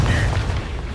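A Confringo fire spell explodes in Hogwarts Legacy, a short, heavy, booming blast that fills the moment and fades quickly.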